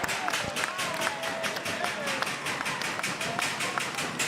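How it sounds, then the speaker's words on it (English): A loud crowd at a Portland Pickles versus Marion Berries baseball game at Walker Stadium makes a dense, steady roar with rhythmic clapping, and a voice can be heard over it. "the crowd sure is getting loud here"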